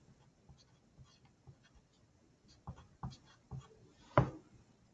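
A pen writes a formula on paper with faint scratchy strokes in short irregular bursts, growing a little louder toward the end, close and quiet with no talking.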